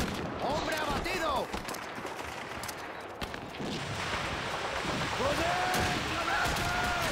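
Gunfire in the World War II shooter Call of Duty 2 rattles in repeated bursts and single shots over a busy battlefield din, with distant explosions and whistling projectiles.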